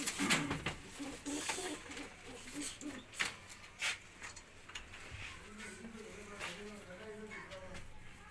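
A pigeon coos in low, soft repeated murmurs among kept pigeons of a prized breed, with a voice speaking over it and other birds faintly about.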